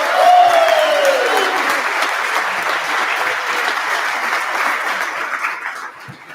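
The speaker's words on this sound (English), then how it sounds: "Let's give one more round of applause to everybody, please." Sustained audience applause at a high school winter sports awards ceremony, steady and fairly loud for the whole stretch, with a brief whistle-like tone at the start and a gradual tail-off.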